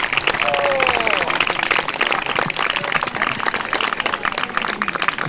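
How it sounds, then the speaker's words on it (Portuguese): Loud applause and clapping from an audience at a Mondioring dog sport demonstration, a continuous crackle of hands with crowd noise and a voice speaking over it. "Forte aplauso para o Nuno e para o Gorek."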